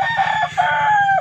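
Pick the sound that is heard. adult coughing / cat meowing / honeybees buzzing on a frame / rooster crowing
rooster crowing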